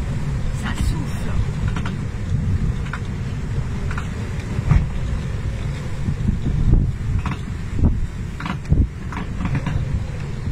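Strong wind buffets a sailboat at sea, producing a steady, loud low roar and rumble that lasts throughout, with occasional gusts and faint creaks over the hull noise.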